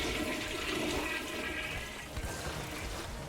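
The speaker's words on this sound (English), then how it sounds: "You get one flush noise, chat." A toilet flush sound effect: a steady, loud rush of swirling water fills the whole stretch, fading slightly near the end, with no talking over it.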